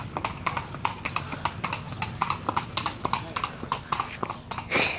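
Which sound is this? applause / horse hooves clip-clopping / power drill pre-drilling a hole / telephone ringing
horse hooves clip-clopping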